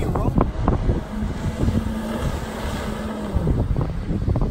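A 2019 Kawasaki jet ski with a 160-horsepower engine runs across open water, its steady engine drone mixed with wind buffeting and splashing, with voices heard briefly over it.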